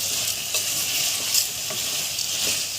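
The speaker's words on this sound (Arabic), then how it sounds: "ونقلب الرز مع العدس." Rice being stirred together with lentils in a pot for Egyptian koshari, a steady scraping, sizzling hiss running close and continuous throughout, with no talking.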